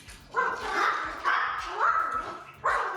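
Several dogs bark loudly and close by in repeated bursts of bow-wows, with occasional yips and whimpers mixed in.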